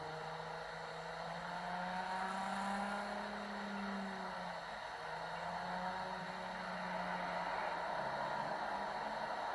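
Car driving in Cyberpunk 2077, a steady game engine drone with shifting pitch sweeps as it accelerates and eases off, continuous and moderately loud with no talking.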